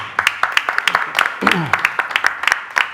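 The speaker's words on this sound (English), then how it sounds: "I think she deserves a round of applause." A small audience at an advisory board meeting gives the superintendent scattered, sparse applause of distinct individual claps at close range, with a voice speaking briefly in the middle.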